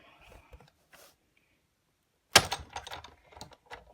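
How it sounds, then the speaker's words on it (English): A sharp mechanical click is followed by a run of crunching, clattering presses as a hand-cranked die-cutting machine punches through paper, close up. "the clicking sounds are just fine. Just punching through our paper."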